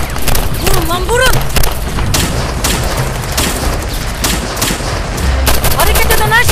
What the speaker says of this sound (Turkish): Hareket eden her şeye sıkın.